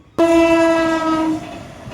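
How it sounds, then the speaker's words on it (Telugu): Horn of the Lucknow Express, an Indian passenger train crossing the Penna river near Nellore, sounds a single loud, steady, close blast of about one second that then cuts off into the rolling train noise. "ఇప్పుడు ట్రైన్ వచ్చి నెల్లూరు పెన్నా నది అయితే క్రాస్ అవుతా ఉందన్నమాట"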